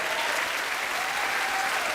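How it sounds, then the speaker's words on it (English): Audience applause for a school principal at a school-show event, a dense steady wash of many hands clapping at close range, without a break for the whole short stretch. "Round of applause for Mr. Jones."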